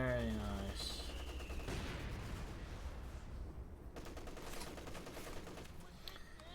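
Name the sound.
mortar and machine gun fire in Company of Heroes 2 video game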